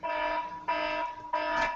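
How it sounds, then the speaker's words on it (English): Phone reminder alarm ringing in three repeated bursts, each a steady electronic tone lasting about half a second with short gaps, fairly loud and alone with no talking. "that's my alarm telling me about the Tuesday tea time"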